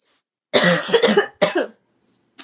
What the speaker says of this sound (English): I also just coughed straight into my microphone.